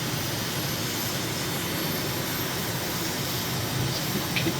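An airliner's engines throttle back in Microsoft Flight Simulator while climbing toward a huge hill near Lhasa, Tibet, a steady, moderately loud jet roar with broad rushing noise and no speech.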